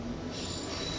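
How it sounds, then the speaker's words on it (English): Subway train rolling with a steady rumble and a high metallic wheel squeal running continuously through the short stretch, close and fairly loud, with no voices. "That is the subway."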